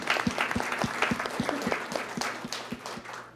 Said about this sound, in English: Can I just get a hand clap for those of you?